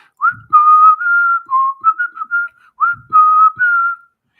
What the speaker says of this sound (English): Can you whistle and not sing?